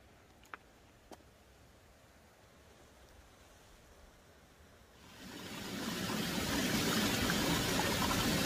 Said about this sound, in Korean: 바로 앞에는 또 계곡이 철철철 흐르제